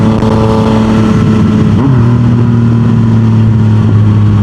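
A Yamaha MT-09 motorcycle engine runs loud and close, a steady droning note that dips in pitch around two seconds in and then holds at a lower idle, with no talk.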